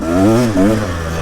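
A Husaberg TE 300 motorcycle engine revs loud and close in one short burst, its pitch rising and then dipping briefly before settling into a rough idle.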